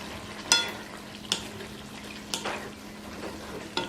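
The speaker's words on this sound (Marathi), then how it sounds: "तर हा आपण ह्याच्यात घालूया आणि एकदा ह्याला छान मिक्स करून घेऊया" Boiled potato pieces stirred into a cashew usal in a pan, a Konkan-style wet cashew gravy, giving a few sharp scraping clinks of a spoon over a soft steady hiss, with no talking.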